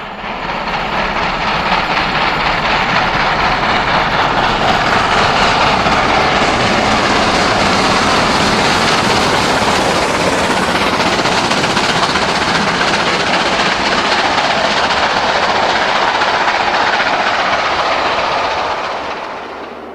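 Steam locomotives 5029 and 70013 double-heading up Whiteball bank, a loud, steady, continuous roar of hard-working engines and rolling stock that holds for the whole stretch and eases slightly at the end.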